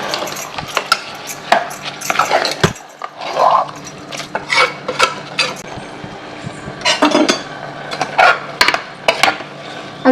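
Ingredients for mushroom biryani are stirred together in a pot, with repeated close scrapes, knocks and metallic clinks of a utensil against the vessel in an uneven rhythm.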